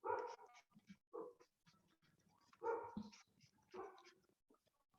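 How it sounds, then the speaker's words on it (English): A dog barks outside in short, excited bursts with whimpers and panting between them, fairly faint and at a distance, heard from indoors during a lecture. "listen the barking of your dog outside?"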